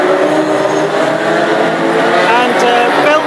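A classic hot rod racing car engine roars loud and close at an oval race meeting, sustained high revving throughout, with a commentator talking over it.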